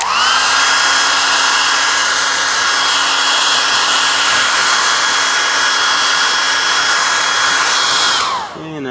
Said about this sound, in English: First, the hairdryer.